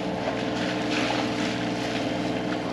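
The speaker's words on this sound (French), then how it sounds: "Et le moteur tourne toujours. Ça fait 1h30 là qu'il tourne à peu près." A sailboat's engine runs steadily after about an hour and a half of operation, giving a continuous close droning hum with wind noise washing over it and no one talking.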